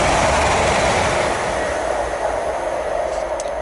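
A train rushes past on nearby tracks in the countryside, a loud, steady roar that stays close throughout with a faint rattle and no voices.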